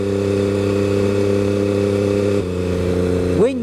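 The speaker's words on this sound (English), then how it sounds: "the sound is absolutely amazing. The throttle response is instantaneous. This thing revs" An MV Agusta F3 800 sport motorcycle engine holds a steady high-pitched drone, drops slightly, then revs sharply upward at the end, loud and close.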